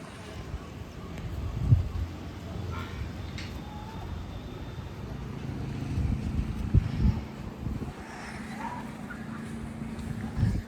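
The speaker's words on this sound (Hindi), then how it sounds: "हवा भी चल रही है और बारिश भी आ रही" Cold wind blows steadily during rain outdoors, a constant low rushing roar with buffeting gusts that hits the microphone, loud and close throughout.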